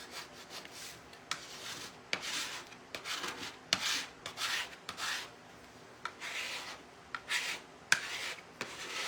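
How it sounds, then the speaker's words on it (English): A paste scraper pushes paste across a surface, giving soft repeated rubbing and scraping strokes in an irregular rhythm, close and fairly quiet. "this paste scraper just pushes all of that paste up"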